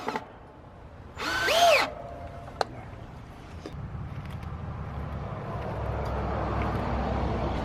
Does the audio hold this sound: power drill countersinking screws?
yes